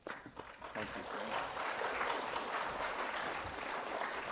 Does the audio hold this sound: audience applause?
yes